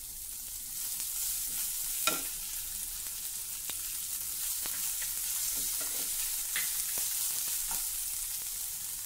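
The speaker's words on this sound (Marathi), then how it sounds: "हे बघा, व्यवस्थित भाजून घ्या, नाहीतर चटणी टिकणार नाही।" Green chillies dry-roasting in a pan for chutney, giving a steady close crackle and sizzle with scattered sharper pops and stirring scrapes throughout.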